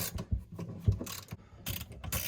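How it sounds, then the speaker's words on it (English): A screw is unscrewed to lift a bung out of a freshly drilled hole, giving close, uneven ratcheting clicks and scraping over about two seconds. "So now I can just unscrew the screw in there."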